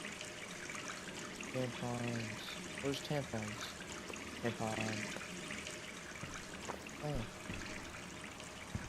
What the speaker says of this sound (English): Turn on the water.